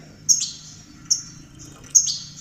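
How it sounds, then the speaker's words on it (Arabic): Goldfinches and canaries on a rooftop give three short, bright chirps spaced about evenly apart, fairly faint over a low background hum, with no talking. "طيور كامله كتغرد"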